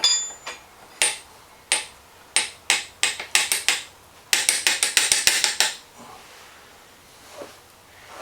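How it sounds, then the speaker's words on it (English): Metal hammer blows driving a taper pin into the handle of a Kearney & Trecker milling machine knee, a series of sharp close strikes in irregular bursts, with a quick cluster of rapid taps in the middle, then quiet. "now the handle goes back on here with the roll pin or the taper pin"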